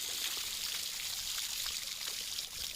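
Water streams from a hose onto cattle being washed for Mattu Pongal, a soft, continuous hiss and splash kept at a low level throughout with no voices over it.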